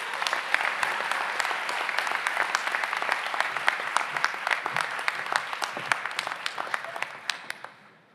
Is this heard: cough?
no